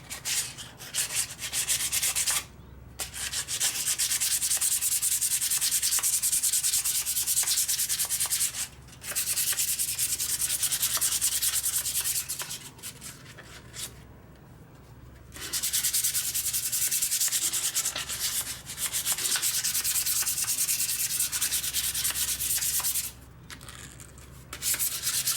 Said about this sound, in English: we're going to just clean up any rust off this